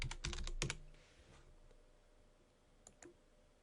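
Short burst of keyboard typing entering a username and password on a computer, a quick cluster of clicks followed by a few isolated keystrokes, close and fairly quiet.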